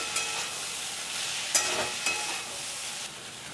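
A sauce with a splash of vinegar sizzles in a frying pan while a spoon stirs it, giving a soft continuous hiss with a few sharp scrapes of the utensil against the pan, close up and without speech.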